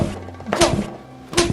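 Someone being struck in a comic scene: two dull, heavy thuds about three-quarters of a second apart, each a short blunt impact, close and fairly loud over a quiet background.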